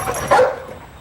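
A dog gives a single short bark, close and fairly loud, amid a brief noisy background, on a television news segment about a search.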